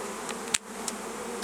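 Honey bees drone steadily around a new hive as brood is added, a dense close buzzing hum with a brief sharp knock partway through and no voices.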